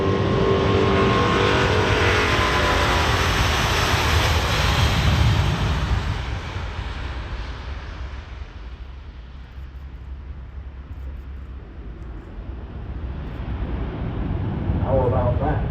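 Airbus A350-900 jet, serial MSN 002, taking off near-vertically at Farnborough International Airshow 2022: a loud, sustained engine roar that swells and then slowly fades as it climbs away, with a person talking over it.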